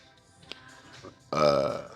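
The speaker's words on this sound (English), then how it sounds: "I feel like I'm gonna burp" A single close, loud human burp, short and throaty, following a few quiet breaths and small mouth noises during a quads and calves gym workout.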